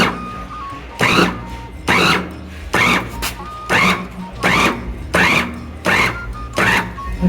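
An electric yam fufu machine grinds boiled yam into paste for fufu, giving seven loud, evenly spaced broadband bursts of churning and thudding, each roughly a second apart, with quieter gaps between.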